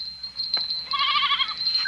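Goats bleat in a wavering, nasal cry, one call rising and shaking near the middle, close and clear against quiet surroundings.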